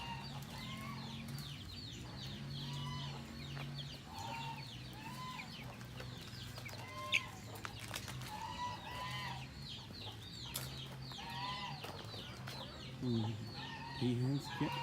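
Chickens cluck repeatedly in a busy farmyard, with a rooster-like call and other birds chirping in the background and some faint talking.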